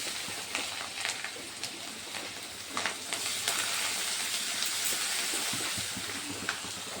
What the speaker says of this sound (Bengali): এখন দিয়ে দিচ্ছি আমি আদা বাটা